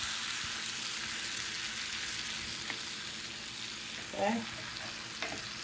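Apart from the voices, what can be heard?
stirring ground turkey and veggies in a pan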